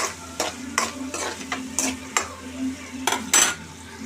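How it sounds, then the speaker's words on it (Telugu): Onion and green chilli frying in a pan for egg fry masala, with a steady sizzle under repeated spoon stirs and scrapes against the pan, close and moderately loud, no talking. "పచ్చిమిర్చి వేసిన తర్వాత ఈ ఫ్రై కావాలి, మంచిగా ఫ్రై కావాలి"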